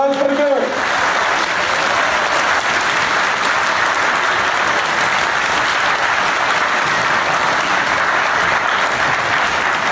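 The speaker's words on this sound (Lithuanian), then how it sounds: "Ir nuo širdžiausio aplodismento Gabrielė Landsbergė." A lecture audience in a hall breaks into sustained applause, a dense even wash of clapping that begins after a brief spoken moment and continues steadily at moderate loudness to the end.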